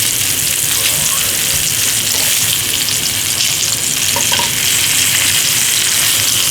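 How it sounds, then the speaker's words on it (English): Beef short ribs searing in a hot pan, loud constant sizzling and crackling spitting fat throughout, with faint movement in the background. "we're going to try to make sure that every side hits that heat, hits the hot pan"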